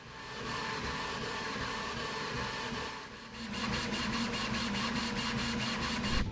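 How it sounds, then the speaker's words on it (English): A Centauri Carbon 3D printer running in ludicrous mode gives off a steady, loud whirring fan noise that grows slightly fuller partway through, with a faint regular pulsing from the moving machine. "with ludicrous mode, you do get an increase in fan noise"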